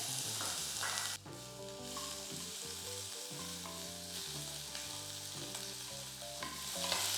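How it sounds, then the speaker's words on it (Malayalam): Medium sliced onion sautéing in hot oil with a small piece of cinnamon, two cloves and a cardamom pod for a potato curry, a steady close sizzle with stirring under continuous background music. "സവോള ചേർത്ത് ഒരു ലൈറ്റ് ബ്രൗൺ കളറാകുന്നവരെ വഴറ്റിയെടുക്കാം."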